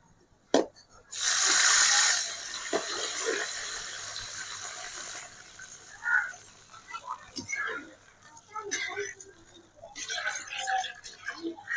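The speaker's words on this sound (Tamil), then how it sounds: "இந்த நேரத்தில் நம்ம அந்த பாலை இதில் ஊற்றிக்கலாம்" Milk is poured into a pan for bread halwa in a short, steady rush, followed by quieter kitchen clinks and stirring.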